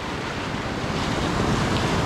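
Ocean surf at a La Jolla beach boat launch, a continuous loud wash of breaking waves mixed with wind noise, close and steady throughout.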